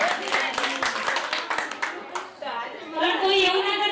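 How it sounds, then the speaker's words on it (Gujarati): A group of people at a community discussion session gives a short round of clapping, with quick overlapping claps. The clapping fades as voices take over and people talk. "ચાલો એના માટે એક તાળી."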